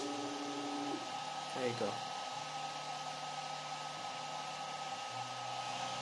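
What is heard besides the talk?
tiny 3D printer starting to prepare a print job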